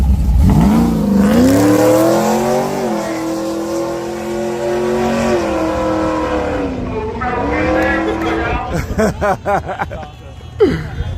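A high-performance drag car, turbo against V8, revving hard at the race start, a loud close engine drone that climbs and falls in pitch, then sharp rapid revs and a short burst at the end.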